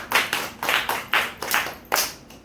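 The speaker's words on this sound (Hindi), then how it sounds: "सभी लोग जोर से तालियां बजाते हैं" A church congregation claps loudly together in about seven rhythmic bursts, each sharp onset trailing off, close and with no voices over it.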